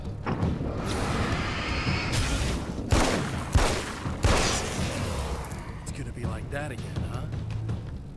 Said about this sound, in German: die hört sich ein bisschen cooler an, die Waffe